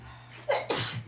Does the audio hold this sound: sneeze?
yes